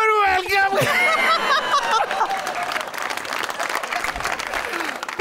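A television studio audience claps and applauds on a comedy talk show, a dense sustained burst under a speaking voice and scattered laughter.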